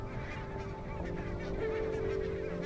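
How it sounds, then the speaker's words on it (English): A flock of barnacle geese at a Scottish river in winter honks continuously, many overlapping calls forming a dense, steady chorus at fairly close range with no speech. "Every winter, barnacled geese arrive right on cue at the same Scottish river."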